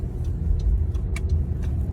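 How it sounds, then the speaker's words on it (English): A car drives along the road, heard from inside as a steady low rumble of road and engine noise, with a few faint light ticks above it and no talk. "actually I'm distracted driving right now"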